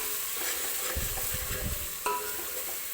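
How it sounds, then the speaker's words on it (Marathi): Ginger garlic paste frying with onions in oil for chicken pulao, a close sizzle with a burst of spoon stirring and scraping against the pan midway. "आलं लसणाची पेस्ट टाकल्यानंतर सुद्धा मी छान असं कांद्यासोबत हे भाजून घेते व्यवस्थित"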